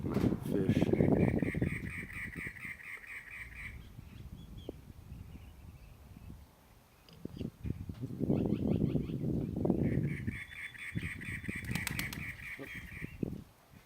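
Crows cawing near the water at the Salton Sea's North Shore Beach & Yacht Club, loud harsh calls in bursts, with several birds calling over each other in repeated rounds amid outdoor background noise.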